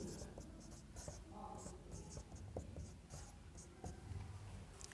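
A pen scratches across paper while a Class 10 maths answer is written out, with short scribbled strokes and small pauses, soft and close, as a voice speaks over part of it.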